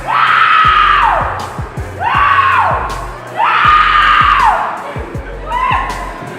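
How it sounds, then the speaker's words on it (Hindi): A boy riding a virtual reality roller coaster in a shopping mall lets out loud, repeated scream-like cries, about four long wails in rising and falling arcs, with crowd noise and rhythmic thumps underneath. "डर के मारे पूरे मॉल में उसकी चीखें सुनाई देनी लग जाती हैं।"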